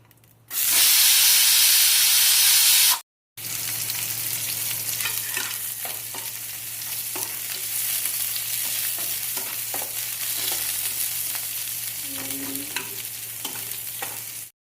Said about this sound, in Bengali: পেঁয়াজটা অল্প নাড়াচাড়া করে নিয়ে